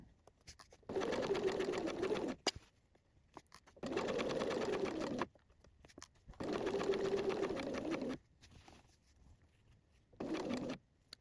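A sewing machine stitches fabric up to a marked point in four steady motorized runs separated by short pauses, close and even in pitch, with faint bird cooing outside.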